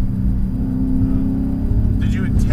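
Deep, loud exhaust rumble from an idling modified turbocharged Subaru Forester XT with custom 3-inch piping and an X-Force Varex muffler close by, steady and throbbing, with a brief higher whine near the end.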